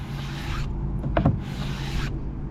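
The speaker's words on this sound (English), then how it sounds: "you just take it and you start scraping it in one direction only" Old head gasket being scraped off the engine head of a Kawasaki Mule, two long, steady rasping strokes in one direction, close and loud, with a short metallic knock between them and no talking.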